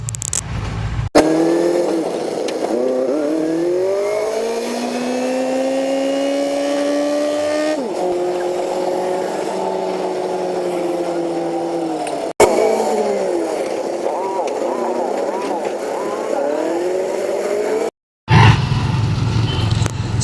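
Vehicle engine droning steadily during a ride, rising and falling with gear changes and revs, loud and continuous with a few abrupt cuts.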